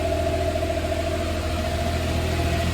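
A restored Suzuki Carry engine idles high and steady, a constant close-up hum with a fixed tone and slight vibration, no voices over it.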